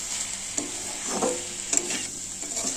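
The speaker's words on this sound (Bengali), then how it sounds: "আর একটু চিনি স্বাদ মতো দিয়ে এটাকে ভালো করে নেড়ে নেবো" Spices and sugar being stirred in a pan for a mixed vegetable curry, a steady hissing fry broken by several scraping strokes of a spatula, close and moderately loud with no talking.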